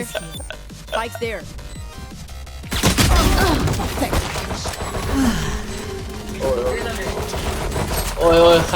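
Bursts of gunfire in the video game Valorant, sustained rapid shots mixed with game effects, over which players shout and talk excitedly.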